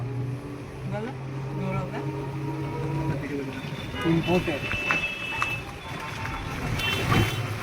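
A toto electric rickshaw rattles and hums along a rough, broken road near Mandarmani, with constant jolting noise and passing traffic while people talk over it.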